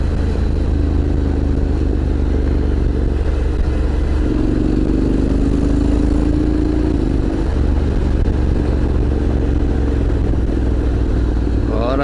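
Honda X-ADV 750 two-cylinder scooter idling and being blipped, a low, steady mid-pitched engine drone with a brief rise in revs partway through, close and continuous throughout.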